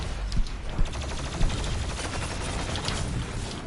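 Double grenade launcher fire in the shooter game Doom, a dense continuous roar of blasts with a few sharper thumps early on, loud and unrelenting with no talk.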